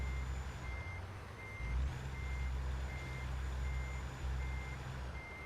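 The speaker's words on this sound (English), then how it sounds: "I'm gonna back this truck up." Steady, evenly spaced reversing beeps sound from a truck backing up in a trucking video game, over a loud continuous diesel engine rumble, with no talking.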